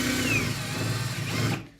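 Power tool grinding a steel pipe at high speed, a steady loud whine with harsh metallic hiss that runs continuously, then cuts off abruptly near the end.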